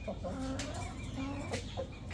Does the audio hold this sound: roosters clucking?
yes